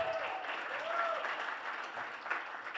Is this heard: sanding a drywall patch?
no